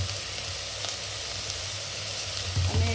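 Ginger and spices frying in a pan for a vegetable dish, a steady close sizzle running throughout with a few louder crackles near the end, no talking.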